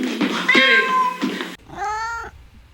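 A cat lets out long, loud meows up close, the second cry whining and strained after a brief break.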